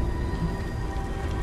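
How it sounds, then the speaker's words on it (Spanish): Steady rain in the video game Beyond: Two Souls, a constant dense hiss with no voices over it. "Dichosa lluvia"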